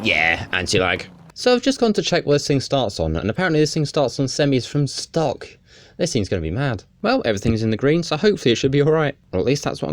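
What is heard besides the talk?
None of the usual background noises is heard.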